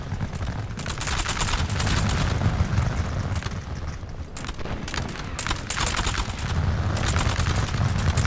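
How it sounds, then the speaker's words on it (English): Musket volley fire in a Napoleonic war video game: dense, loud crackling bursts of massed shots roll on almost without a break, with brief lulls between waves. "that volley fire is devastating"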